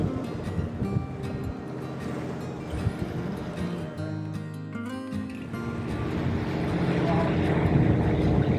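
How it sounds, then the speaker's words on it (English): A motorboat cruising British Columbia's remote Inside Passage toward Alaska hums steadily at moderate distance, its engine drone mixed with water and wind noise, growing somewhat louder toward the end, with people talking faintly over it. "I don't think they like the boat noise."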